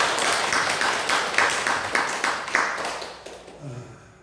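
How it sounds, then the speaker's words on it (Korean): A church congregation claps together during a worship service, a dense patter of hands that starts fairly loud and steadily fades away over a few seconds. "우리 박수로 감사를"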